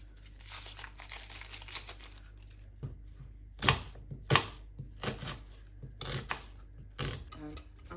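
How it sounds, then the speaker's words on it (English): A knife chops garlic and onion on a cutting board while soup ingredients are prepped, with scattered crisp knocks that sharpen into several louder separate strokes, close up with no talking. "to prep the garlic and the onion"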